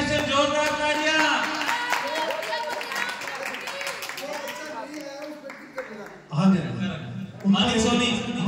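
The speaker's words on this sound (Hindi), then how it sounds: "हमारे माणिक सोनी इनके लिए स्पेशल जोरदार तालियां" A crowd at a Ramlila celebration claps loudly for an actor, sustained applause running beneath someone speaking over it, with a few sharper bursts near the end.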